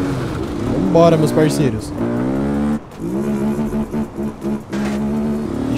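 A Honda Sahara 300 motorcycle with a cut-down exhaust revs hard and loud in repeated throttle blips rising and falling over several seconds, close by, while someone talks over it.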